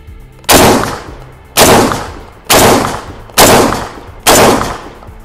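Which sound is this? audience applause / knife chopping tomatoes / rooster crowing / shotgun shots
shotgun shots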